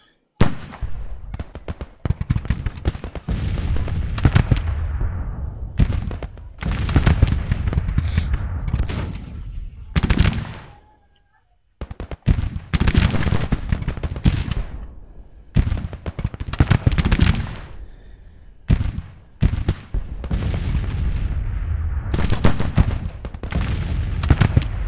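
Rapid Civil War gunfire and artillery from the Grand Tacticians strategy game at the Battle of Fairfax, loud bursts of fast shooting in repeated volleys with brief gaps, broken by a short lull midway.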